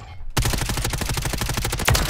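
Rapid automatic gunfire from the Modern Warfare 3 video game, a loud close burst of evenly spaced shots lasting almost two seconds after a brief quiet start.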